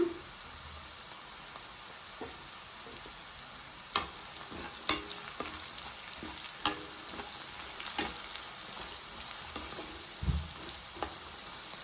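Turmeric powder being stirred into a frying capsicum lemon rice paste in a pan, with a soft continuous sizzle and several sharp scraping and clinking stir strokes close by.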